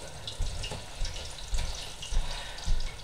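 Hot oil bubbles and sizzles steadily as food deep-fries in a home kitchen, a constant crackling hiss that swells in soft recurring surges.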